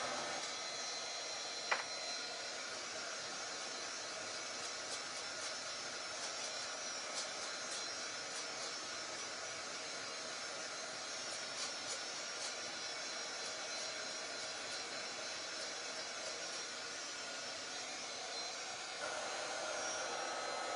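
A hair dryer dries paint on a wooden porch sign, a loud steady airy roar running unbroken from start to finish with faint clicks beneath.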